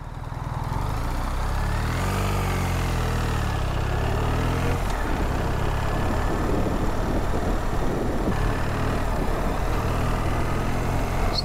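A BMW R1300 GS Trophy Edition motorcycle engine runs while riding on a cold day, a smooth continuous drone that rises in pitch as it accelerates, then steadies beneath rushing wind noise.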